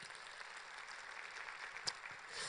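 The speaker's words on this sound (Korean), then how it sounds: "박수 한번 쳐주십시오, 박수" An audience claps together at a 2017 lecture by a city mayor in Kangwon National University's Baengnyeong Art Center in Chuncheon, a steady, fairly soft wash of applause that lasts the whole stretch and swells slightly toward the end.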